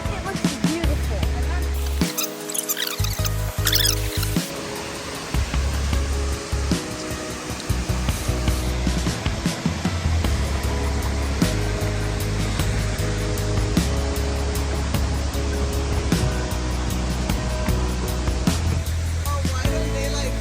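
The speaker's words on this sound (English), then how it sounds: "We're in Lubiski at a waterfall." A waterfall near Mostar in Bosnia and Herzegovina roars as a steady broadband rush, loud and constant, with people talking close by and a brief dip in the noise early on.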